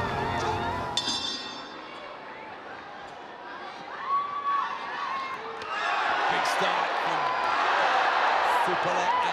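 Crowd at a Muay Thai fight roars and cheers, building from a steady hubbub to a loud, sustained swell of shouting and whooping near the end.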